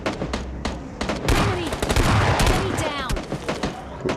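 Automatic gunfire and rocket-launcher blasts in the PUBG Lite video game: dense bursts of close, loud shots with repeated sharp cracks throughout, a louder sustained barrage in the middle, and a voice talking briefly.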